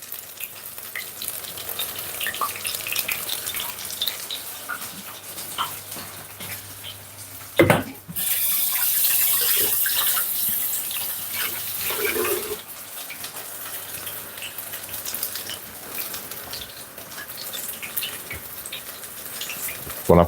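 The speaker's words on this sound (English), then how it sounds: "once you wash your hands, be careful, wash it off and dry them properly" Water runs steadily from a tap as hands are washed in a kitchen during fish and chips preparation, a continuous hiss with a brief louder splash partway through.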